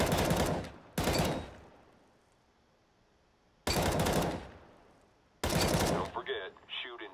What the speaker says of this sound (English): Shoot in short bursts.